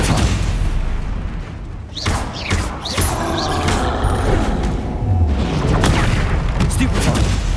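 Stupefy spell casts in Hogwarts Legacy, loud booming impacts and whooshing magical bursts in a dense, continuous duel, with rapid overlapping blasts throughout and no voices.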